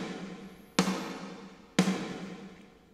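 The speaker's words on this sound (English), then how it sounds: "Just a nice long standard reverb on the snare." Two snare drum hits about a second apart, each followed by a long decaying Space Designer reverb tail from a long snare room preset, sharp attacks fading smoothly, alone with no talk.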